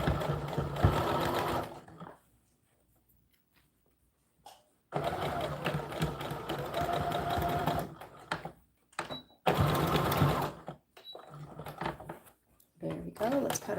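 A sewing machine stitches the seam of an American Girl doll dress in several bursts of rapid whirring, with pauses between runs as the fabric is turned around the curve of the armhole. The machine is close, and a voice talks between the runs.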